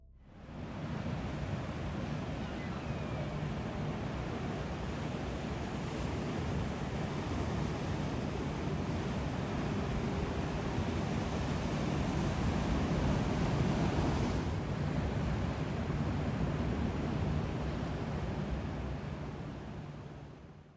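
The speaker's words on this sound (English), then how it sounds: "Let me leave you with the noise of the ocean" Ocean surf near a lighthouse gives a steady, broad wash of roaring noise that swells slightly in the middle, with wind mixed in and no voices.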